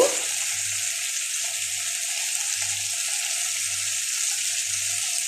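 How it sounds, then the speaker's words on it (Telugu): Tomatoes frying in a pan, a close, steady sizzle that holds evenly throughout, with a faint low hum pulsing underneath and no one speaking. "టమాటోస్ బాగా వేగేయండి"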